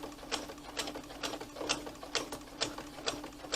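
A sewing machine stitching a classic tote bag, fast rhythmic clicking pulses at an even pace, moderately close and steady over a low motor hum.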